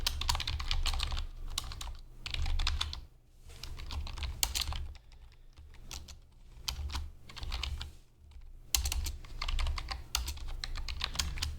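Fingers type on a computer keyboard while coding in JavaScript, close and busy bursts of rapid key clicks separated by short pauses, no voices.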